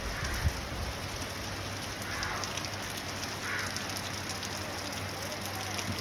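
Rain falls continuously outside a hotel in the Andaman and Nicobar Islands, a soft, even hiss of drops on surfaces with one brief knock, heard alone with no talking.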